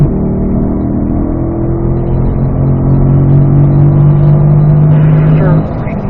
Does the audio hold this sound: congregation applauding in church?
no